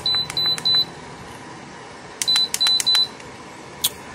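A Lasko digital tower heater gives short electronic beeps as its settings are changed: a quick group of about four near the start, a second group of four to five after a pause, and one last faint beep, each crisp and close with no talk.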